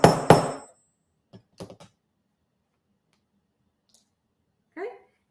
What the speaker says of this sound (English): we're going to give it a couple of bonks with the hammer